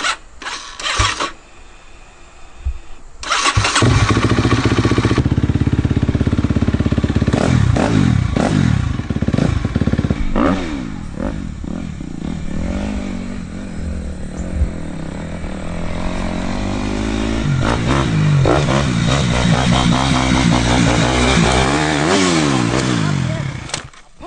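A dirt bike engine revs hard and continuously as it is ridden, loud and close with rising and falling throttle, rattling and scraping noises, and wind buffeting throughout.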